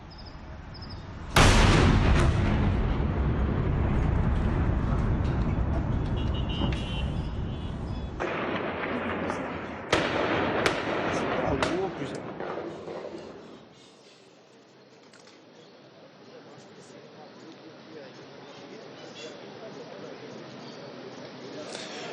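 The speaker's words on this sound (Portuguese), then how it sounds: "Tem alguns vídeos circulando pelas redes sociais que mostram o momento da explosão e dos disparos." An explosion and gunshots ring out during a bank robbery, with one big blast followed by a loud, sustained roar and a scatter of sharp reports. The sound then drops to a quieter ambience with faint noises.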